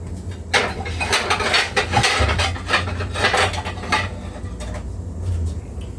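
Biscuits set one by one into a butter-greased cast iron skillet, a series of soft scraping, rubbing and light clattering contacts against the iron, close and fairly quiet, with no talk.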